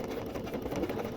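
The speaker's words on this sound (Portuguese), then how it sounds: "pra fazer o ponto cheio que a gente fez lá, ó, usando o zigue-zague da máquina" A domestic sewing machine stitches a zigzag satin stitch for embroidery, its motor and needle producing a fast, steady, even whirring rattle up close, with no voices.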